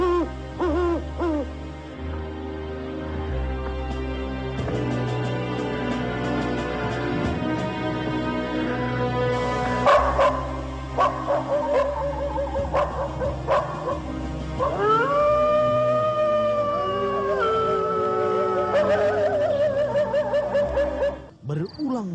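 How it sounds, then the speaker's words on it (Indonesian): Forest wolves howl near a haunted graveyard at night, answering one another in long, wavering, rising and falling calls. The howls swell loud in the second half over a dense, droning, eerie background. "Suara lolongan serigala hutan seakan menyambut sesuatu yang gaib."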